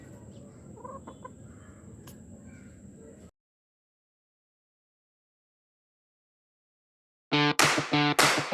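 A chicken gives a few faint clucks in the first few seconds, then silence, then a loud, close burst of harsh calls near the end.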